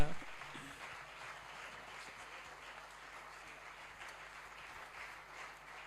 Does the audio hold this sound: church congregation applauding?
yes